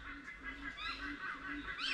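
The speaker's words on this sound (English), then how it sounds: "You hear that? That is definitely a pair of seagulls." Two birds trade harsh, repeated honking calls in a steady back-and-forth rhythm, fairly close, with no talking.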